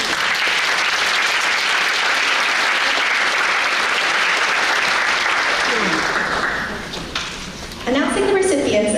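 An audience at a scholarship award ceremony breaks into loud, sustained applause that fills the room for about seven seconds, then fades before a voice begins speaking.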